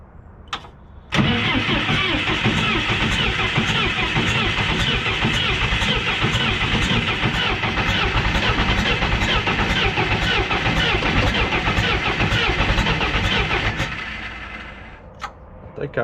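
Allis Chalmers 655 crawler with a rebuilt injection pump cranks and catches, then runs loud and close with a steady rough diesel clatter for about thirteen seconds before shutting down, ending in a couple of clicks.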